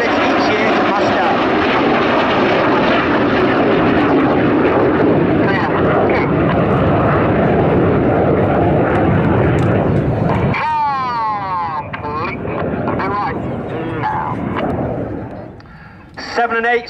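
Red Arrows jets roar loudly past at an RAF Cosford air show display, a dense sustained rumble that drops away sharply after ten seconds, leaving a fainter whine with a commentator's voice over a loudspeaker.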